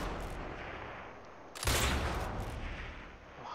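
Gunfire in the video game Sniper Elite 4 at a military camp, a quiet distant rattle of shots followed by a sudden louder burst and lingering rumble, with no talking.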